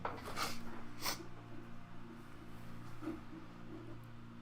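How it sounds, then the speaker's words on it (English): Quick nasal sniffles from a person with a cold, two or three short breathy snorts near the start, close and fairly quiet over a steady low background hum. "I have a case of the sniffles, seem like"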